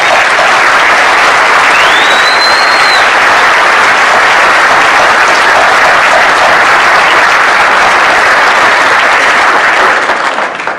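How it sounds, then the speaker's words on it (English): A crowd applauds firefighters and police officers at a town event, loud and sustained clapping that fills the space without a break, with a faint whistle rising briefly near the start. "let's give a round of applause to the firefighters and police over there."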